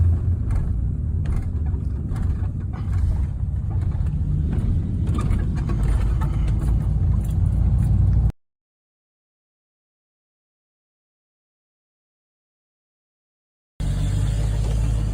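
Old Blue, an old truck, rolls along with a continuous low engine rumble and road noise, steady and fairly loud for about eight seconds, then cuts to silence before the drone resumes briefly.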